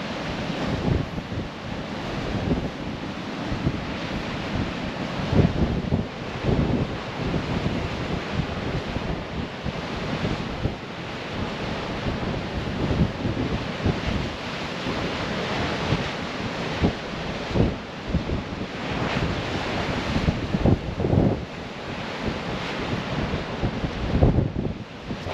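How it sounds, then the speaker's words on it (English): Big ocean waves crash and surge along the wild Orkney coastline at Yesnaby, a continuous rough roar with repeated heavier breaking surges, mixed with strong wind buffeting the microphone. "Some big waves."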